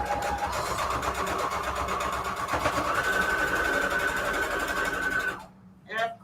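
A home sewing machine stitches patchwork fabric scraps for junk journal covers with a steady, fast mechanical whir held close for several seconds, then stops briefly before a short final burst of stitching.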